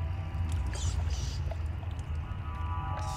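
Water flows steadily in the video game Dishonored, a dense continuous rushing and gurgling wash that holds even and fairly loud throughout, with no speech over it.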